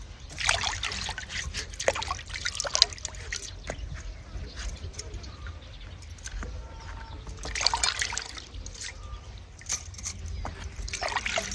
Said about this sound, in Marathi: हे दोडकं सुद्धा आपल्याला धुवून घ्यायचं